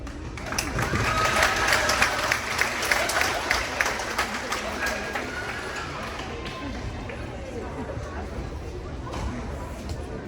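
An audience at a school fall sports event applauds the athletes, with dense clapping and cheering that is loudest at first and gradually thins out into crowd chatter.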